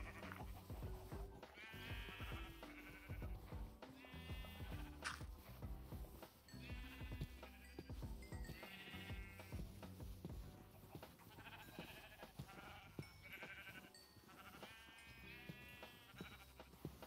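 Sheep bleat repeatedly in a Minecraft hardcore world, several overlapping calls recurring every couple of seconds over a busy game soundscape.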